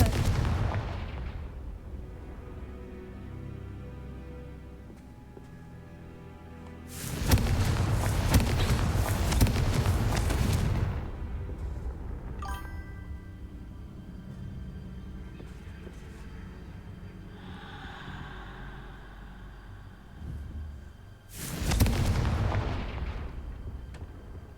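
The Confringo fire spell in Hogwarts Legacy sets off booming blasts. A heavy explosion opens the stretch, a long rumbling burst follows, and another blast comes near the end. Quieter magical effects sound in the lulls between them.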